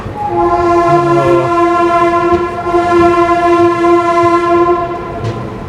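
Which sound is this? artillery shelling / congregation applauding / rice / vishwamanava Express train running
vishwamanava Express train running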